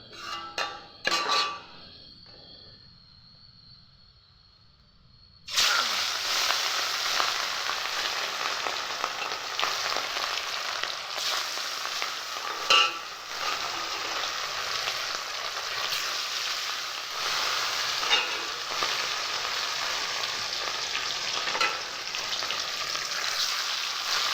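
Fish frying in hot oil for a breakfast of pakhala with fish and garlic-chilli paste, starting with a few clinks and a quiet pause, then a steady loud sizzle running continuously with occasional small crackles, no talking.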